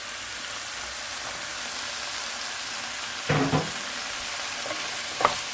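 Potatoes for methi aloo hit a pan, a soft steady hiss of frying punctuated by a couple of brief knocks and scrapes near the end, quiet and without talk.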